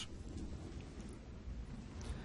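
A rain-of-fire attack in the video game Halo Wars 2: a heavy, continuous rumbling roar with crackling texture, a sustained barrage-like wash of fiery noise without voices.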